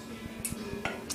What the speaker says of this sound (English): And stirring while you're doing that